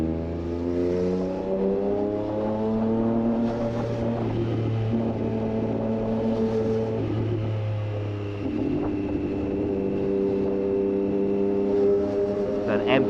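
A Yamaha MT motorcycle accelerates past in busy New York City traffic, its engine note rising and falling over a steady nearby engine drone, with a voice talking over part of it.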